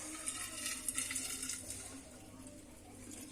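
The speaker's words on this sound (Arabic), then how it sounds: "وغادي نخويو عليهم ماء طايب، يعني ماء مغلى." Boiled water poured from a kettle over herbal cold-remedy ingredients in a glass jar, a faint steady trickling splash that eases off toward the end.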